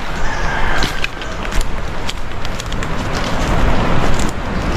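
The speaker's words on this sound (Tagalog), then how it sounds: "Dinig na yung ano, mga tilawak ng manok." Chickens cluck and call nearby over a noisy outdoor background, with scattered sharp bursts of poultry sounds.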